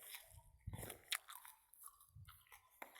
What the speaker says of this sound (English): Let me finish crunching.